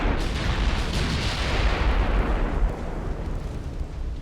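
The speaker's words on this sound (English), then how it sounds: "Ammo detonation." Ammunition magazine detonation on a warship in the naval strategy game Ultimate Admiral: Dreadnoughts, a single massive explosion with a deep rumbling roar that swells and then slowly decays over several seconds.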